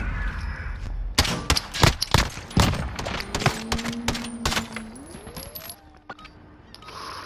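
Gunfire in a shooting video game, a cluster of loud sharp shots and clattering impacts in the first few seconds, followed by quieter mechanical clicks and a rising tone.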